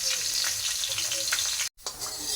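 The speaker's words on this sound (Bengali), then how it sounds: "আলুগুলো ভাজা হয়ে গিয়েছে, তুলে নেব।" Potatoes frying in hot oil in a village kitchen, a loud continuous sizzle close up with stirring scrapes and a short cut of silence partway through.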